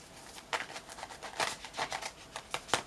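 Tarot oracle cards are shuffled in a run of crisp riffling and slapping bursts, close and moderately loud, with short gaps between them and no talking.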